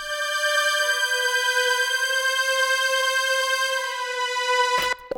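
Dry sustained synthetic string chord in a wintfye-style rap beat, heard without effects; one steady held chord plays alone for about five seconds, then cuts off abruptly.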